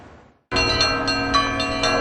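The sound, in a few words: church bells ringing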